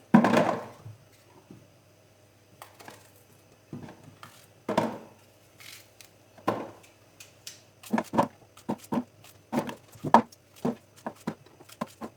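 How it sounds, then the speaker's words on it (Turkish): Apples being halved and dropped into a container for homemade apple cider vinegar: a series of sharp knife cuts and dull thunks, sparse at first, then coming in quicker clusters, close and fairly loud in a quiet room. "Bu elmaları şöyle ikiye bölerek e, bidonumun içine atıyorum."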